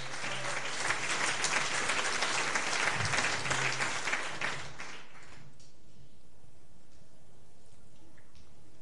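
A church congregation breaks into loud, dense applause for several seconds, the clapping swelling and then stopping abruptly, leaving a quiet, faintly humming room afterward.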